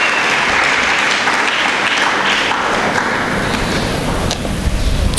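A loud, close burst of audience applause at a school speech day, honouring a long-serving staff member, dense and continuous throughout with occasional thumps mixed in.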